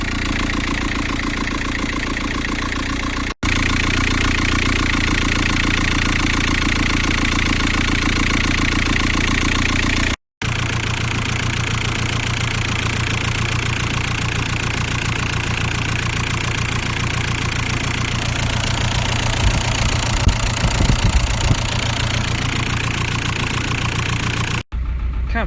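An engine freshly installed in an Audi B5 idles steadily and close, a continuous mid-pitched hum with a slight rhythmic knock, briefly interrupted by a couple of cuts.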